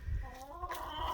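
ISO Brown laying hens, also called Cinnamon Queens, cluck and murmur on a homestead in a close cluster of soft, wavering calls that overlap briefly.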